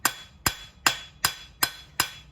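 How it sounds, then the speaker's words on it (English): A blacksmith's hammer forging steel on an anvil at a coal forge with an electric blower, six sharp ringing strikes at an even, steady pace, each decaying quickly, with no talk. "I'm going to walk the hammer back to the edge"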